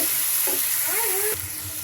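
Vegetables frying in a pan for a shapla water lily dish, a loud constant sizzle with stirring scrapes and a brief voice mixed in partway through.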